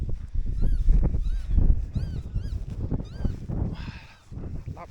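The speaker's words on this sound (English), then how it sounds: "Lapwing's so loud" Lapwings call loudly and repeatedly in open country near Stanhope, giving sharp, rising, wheezy cries over a windy, rumbling background.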